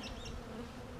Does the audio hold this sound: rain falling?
no